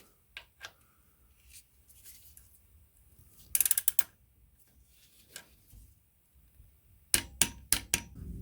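Torque wrench set to 25 newton meters tightening on a Triumph Bonneville 900cc Street Twin during an oil change, quiet scattered metallic ticks, then quick clusters of sharp ratchet clicks, close up with no talking.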